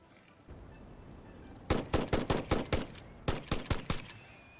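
Rifle gunfire from Satisfactory: after a quiet stretch, a rapid run of about seven sharp shots comes first, then a pause and a second burst of about five, each crack close and punchy.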